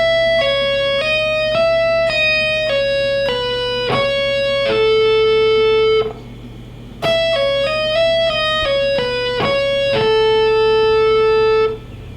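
Electric guitar plays a smooth Lydian legato lick, a nine-note pattern of quick hammered and pulled notes ending on a held tone, then repeats it once. The notes are bright and close over a steady amp hum.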